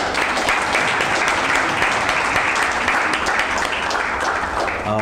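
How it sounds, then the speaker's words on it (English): Audience applause at Tanzania's first law conference, a loud, continuous crowd clapping wash that holds steady for the whole stretch without pause. "So to each and one, all of you, please, a round of applause"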